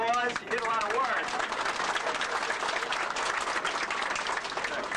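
Dense, steady clapping from an audience at an anniversary ceremony fills the room after a brief spoken introduction and continues evenly at close range.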